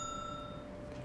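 A bell rung in the hospital video game Clinical Trial: a clear, bright single chime with several sustained tones that ring on and slowly fade across the moment.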